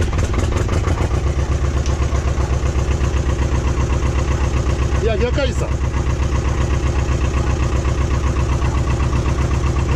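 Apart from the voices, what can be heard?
Ursus tractor diesel engine idling cold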